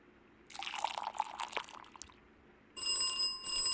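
A telephone rings in a video game: after a stretch of dripping, splashing water, a bright, loud electronic ring starts and repeats without talk.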